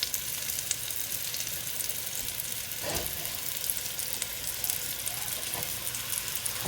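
Beef chunks sear in an uncrowded pan for stew, giving a dense, continuous close sizzle with a brief scrape or stir partway through.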